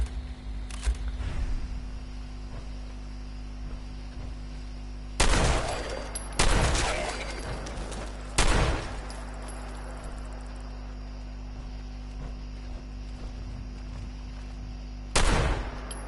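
Several loud, isolated gunshots in Fallout 4, on a PS4 with the Mad Rock mod, crack over a steady low hum. Most are single shots, with one quick double and long quiet gaps between them. No one talks.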